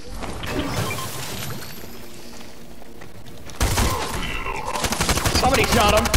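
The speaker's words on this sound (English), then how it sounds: "Somebody shot him." Video game gunfire: a muffled, cluttered stretch followed by a burst of loud, rapid shots and impacts in the last few seconds.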